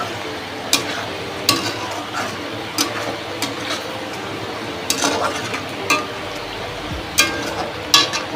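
Whole potatoes and onions frying together in oil in a kadai, with a constant close sizzle and frequent sharp clinks and scrapes of a spatula at irregular intervals, no talk.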